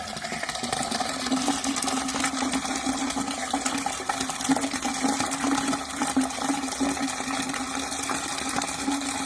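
Water rushes and gushes steadily down a clogged kitchen sink drain, a constant loud flow with a low gurgling hum running underneath, no talking.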